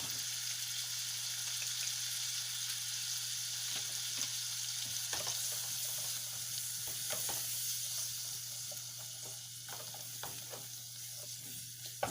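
Garlic and ginger sizzle and fry steadily in a hot pan, a continuous close crackling hiss with small pops and occasional stirring scrapes, no talking.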